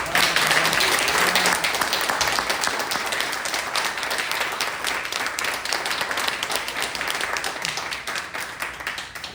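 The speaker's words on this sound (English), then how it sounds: "a loud applause before my turn" An audience at a Hernando County candidate forum gives loud, sustained applause, a dense wash of many hands clapping that gradually thins over about nine seconds.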